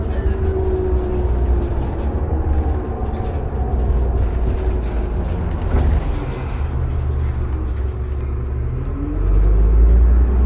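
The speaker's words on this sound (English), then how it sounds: "And you hear the transmission shift a little bit, but it's not jerky at all." A 2005 New Flyer D40LF transit bus heard from inside while driving, steady engine rumble and road noise with gradual pitch sweeps as the transmission shifts smoothly, swelling louder near the end.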